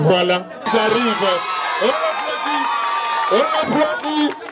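Crowd at a school ceremony whooping, cheering and shouting, a busy near clamor of excited voices with people talking over it.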